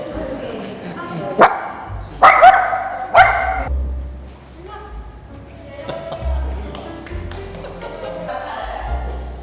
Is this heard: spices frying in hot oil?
no